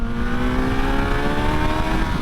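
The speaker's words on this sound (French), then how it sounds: "tu l'entends ce 4 cylindres qui rugit" A Suzuki GSX-S1000GX four-cylinder motorcycle engine revs hard and steadily, a loud continuous high-pitched roar rising slightly in pitch throughout.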